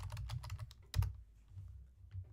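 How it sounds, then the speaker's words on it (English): Fingers typing on a computer keyboard, a quick quiet run of close key clicks with one firmer tap in the middle and a short pause before a few last keystrokes. "So I'm going to type it in again."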